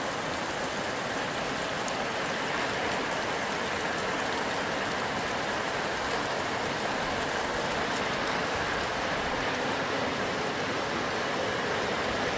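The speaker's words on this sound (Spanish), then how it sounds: "Pero la lluvia ya llegó al rancho." Steady rain falling on a ranch, a dense, even hiss of drops on surfaces that holds constant and close throughout with no other sounds.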